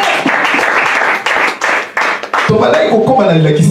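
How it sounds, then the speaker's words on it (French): A church congregation bursts into applause, dense clapping filling the first few seconds before a voice speaks over the fading claps. "Applaudis le Seigneur."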